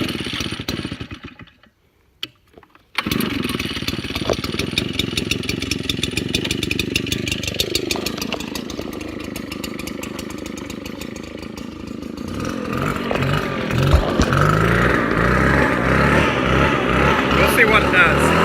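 A Husqvarna 360BT backpack blower coughs with a few short bursts from the pull start, then its two-stroke engine catches and runs continuously, loud and close, rising in pitch toward the end, with someone talking over it.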